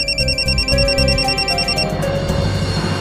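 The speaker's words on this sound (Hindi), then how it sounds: "ये आरवी मुझे क्यों फोन कर रहा है?" A phone rings loudly with a repeating electronic trill in rapid bursts, then cuts off as background sound continues.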